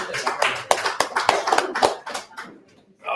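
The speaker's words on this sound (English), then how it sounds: "How about a round of applause for our young." A small audience at a live show at a winery gives brief, sparse clapping that fades out within a few seconds, with a few distinct nearby claps.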